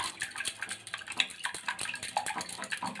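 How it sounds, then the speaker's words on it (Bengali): A utensil clinks and scrapes against a bowl in quick, irregular strokes while eggs are beaten for a fruit cake, close and fairly quiet. "ডিমটা কিন্তু আমি 5 মিনিট ফাটিয়ে নিয়েছি"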